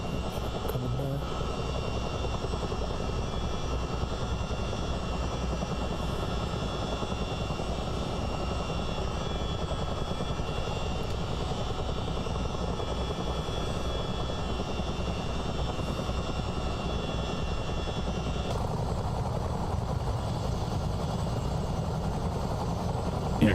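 Twin-rotor Chinook CH-47 helicopter in Microsoft Flight Simulator, a steady, loud rotor and turbine drone that holds evenly throughout, with a slight shift in tone near the end.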